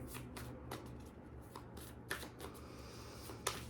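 Oracle cards being shuffled by hand: soft, repeated riffling flutters and light slaps, faint and close, over a low steady background hum.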